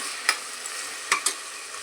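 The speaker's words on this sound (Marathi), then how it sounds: "आपण यामध्ये हा धुवून घेतलेला मसूर ॲड करणार आहोत। आपण इथे नीट आता मिक्स करून घेऊया।" Washed masoor lentils being stirred in a hot pan for masoor pulao, with a steady frying hiss and three or four short scraping strokes of the spoon, close and moderately loud.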